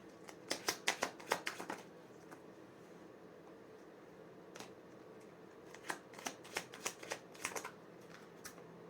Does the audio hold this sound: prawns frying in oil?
no